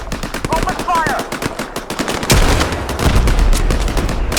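In a war video game, rapid machine gun fire rattles in dense close bursts, shifting to heavier booming fire partway through, with a voice briefly under the shots.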